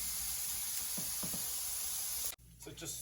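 Breakfast vegetables simmering and frying in an oiled pan give off a steady, close sizzle, with a few soft clicks, a sudden cut and then a quieter hiss.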